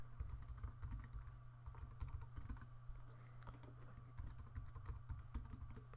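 A password goes in on a computer keyboard, with quick, soft key clicks tapping in an uneven rhythm over a low background hum, faint and close.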